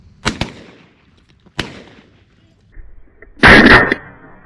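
Shotgun blasts during a dove hunt in open country: two sharp, loud reports early on, then a third a second later, followed by a brief burst of a shouted voice near the end.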